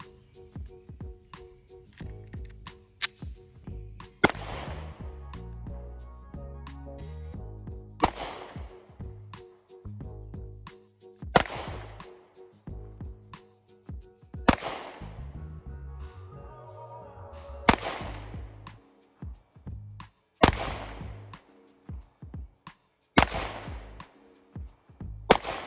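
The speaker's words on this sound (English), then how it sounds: "we got the Canik TP9 SC. She's gonna shoot that one" A Canik TP9 SC 9mm pistol fires shot after shot, sharp loud cracks spaced a few seconds apart with some quieter handling clicks between them.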